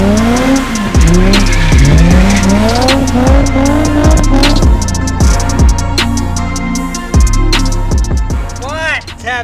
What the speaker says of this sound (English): You can throw it a lot harder and get more sideways and still be able to control the car